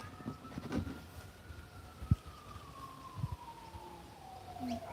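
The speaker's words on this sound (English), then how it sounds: "Can you hear that siren?" A distant siren wails in a long, slowly falling tone, with a few soft knocks and thumps nearby.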